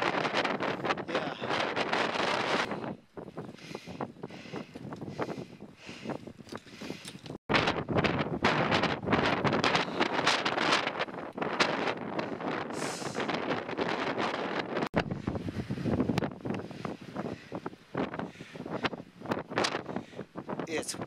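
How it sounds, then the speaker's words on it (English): Strong outdoor wind in Alaska buffets the microphone with loud, continuous roaring rumble and gusty bursts for about twenty seconds, dropping out briefly a couple of times, while people talk underneath. "It's windy as heck here."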